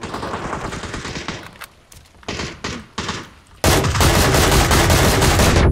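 Gunfire in PUBG (PlayerUnknown's Battlegrounds): loud rapid bursts of automatic shots in several separate volleys, ending in a sustained heavy barrage, with no talking.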